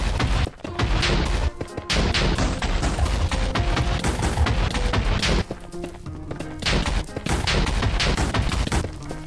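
A dense, continuous barrage of bed explosions in the Nether of Minecraft, loud booms piling on top of one another with barely a pause, thick and heavy throughout.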